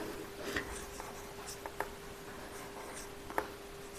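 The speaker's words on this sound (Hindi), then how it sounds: "त्रिज्या यहाँ लिखेंगे" Marker or chalk writing on a board during a lesson on a circle's radius, giving a few faint, scattered strokes and taps against a quiet background.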